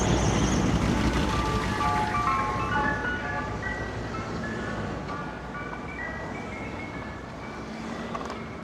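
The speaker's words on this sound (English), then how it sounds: "All right, ice cream truck's pulling over." A Queens ice cream truck pulling over in traffic, its jingle melody playing clearly over street and engine noise and fading slightly as it goes on.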